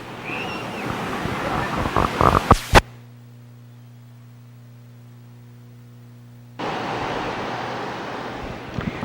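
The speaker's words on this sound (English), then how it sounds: "not much different in terms of the roll of the waves" Ocean surf rolling onto a Southern California beach beside a pier, with steady wind-blown washing at the start and end and a near-silent humming gap in between.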